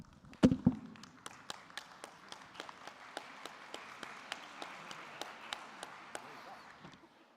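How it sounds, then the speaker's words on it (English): Sparse, quiet clapping in a conference hall for a speaker at the podium opens with a louder burst, then settles into evenly spaced single claps for several seconds before stopping. "The longer you applaud, the shorter my speaking time."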